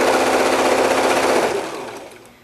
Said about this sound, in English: I'm going to sew it at what is a scant 1/4 inch on my machine.